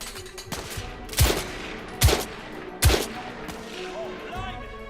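Three sharp, booming gunshots, evenly spaced about a second apart, ring out during a shootout in the video game The Order: 1886, each followed by a short decaying tail over low background ambience.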